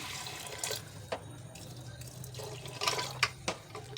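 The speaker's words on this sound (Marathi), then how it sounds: "तांदूळ बुडतील इतपत पाणी घालायचे" Water splashes and pours into a pot of washed Kolam rice in a few uneven bursts, with a faint steady hiss underneath and no voices.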